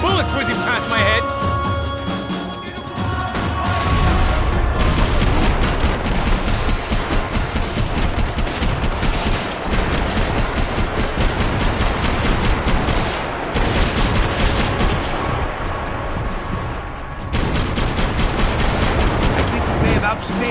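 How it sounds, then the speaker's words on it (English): Dense gunfire fills a Max Payne 3 firefight: rapid bursts and single shots overlap in a loud, continuous barrage, with a short lull partway through before the shooting resumes at full intensity. "I can't concentrate with bullets whizzing past my head."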